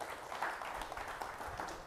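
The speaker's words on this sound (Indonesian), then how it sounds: "tepuk tangan untuk Bapak Ibu semua" Seminar audience claps together, a dense, steady patter of many hands at moderate loudness throughout the short moment.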